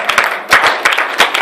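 A church congregation claps and cheers in praise during a worship service, a dense burst of applause rising in waves, loud and close, without talk over it.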